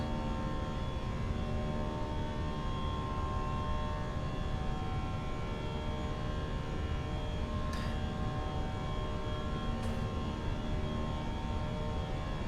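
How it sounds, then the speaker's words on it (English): Loud, steady engine roar with a strong droning hum that holds constant throughout, heard from inside an airliner cabin climbing toward cruise on a Sydney to Melbourne flight. "This particular engine variant in this plane is quite noisy for a little while until we get up to cruise."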